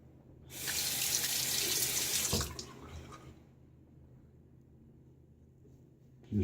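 Running tap water rinses a pre-war Gillette Tech Fat safety razor in a sink, a steady bright gush for about two seconds that cuts off abruptly, leaving quiet room tone.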